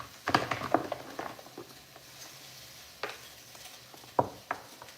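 Food frying in a hot pot in a home kitchen while Thanksgiving dinner is made, heard as quiet sizzling under scattered sharp clinks and scrapes of stirring, loudest near the start and again toward the end.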